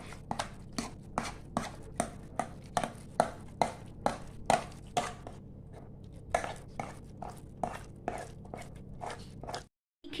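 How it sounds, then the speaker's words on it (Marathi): A wooden churner works khapli wheat kheer smooth in a pot, giving a steady rhythmic series of close knocking strokes about twice a second, with a brief pause near the end and no voices. "रवीनी ही सगळी जी खीर आहे ती अशी व्यवस्थित घोटून घ्यायची आधी"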